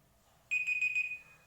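A quiz countdown timer ends with a single bright electronic beep lasting about half a second, loud against a quiet background, then a short fading tail.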